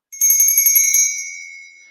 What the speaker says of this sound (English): All right, ring the bell.